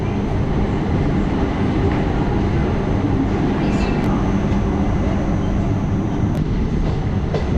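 Madurai Chandigarh Express running through a station without stopping, a dense, loud, continuous roar of wheels and carriage rumble heard from on board, steady throughout with faint squeals.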